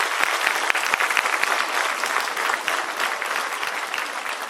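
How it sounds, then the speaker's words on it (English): Students in a hall break into sustained applause, many hands clapping densely and steadily for several seconds with no voices over it. "I want to give you a clap."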